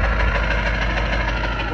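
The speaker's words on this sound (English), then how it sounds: "Here's the way she sounds with a 4-inch turbo back." A 2002 Ford F-350 with a 7.3 Powerstroke diesel and a 4-inch turbo-back exhaust, idling with a steady, deep, close-up rumble and a faint knocking pulse.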